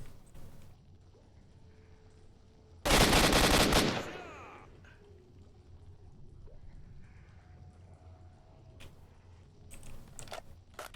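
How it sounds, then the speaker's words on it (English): Gunfire in STALKER: Shadow of Chernobyl, a single loud, dense burst of about a second that decays into a ringing tail, followed by quiet ambient game sound and a few faint clicks. "Bullets going right through the man's head."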